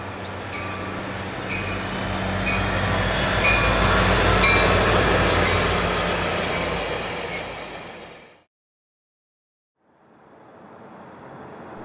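An ACE commuter train rolls past the junction toward San Jose, a loud, steady rumble of wheels and cars building and fading over several seconds, then cutting off briefly before a quieter rolling sound resumes.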